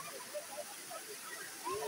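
The Kutralam private falls make a steady, moderate, broadband rush of falling water that stays constant throughout, with faint talk partly over it.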